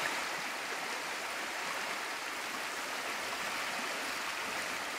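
A river stream flows steadily beside a riverside campsite in Corsica, a continuous close rushing wash of water with no breaks and no voices.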